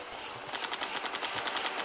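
Rapid, dense gunfire-like blasts from a cannon rattle continuously through a video game boss fight, a harsh, fairly loud burst with no talking over it.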